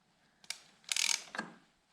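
A seized 2004 Honda CRF 450 R engine is turned with an 8 mm Allen key, giving a few short faint mechanical clicks and a grinding ratchet-like scrape up close, with no talking.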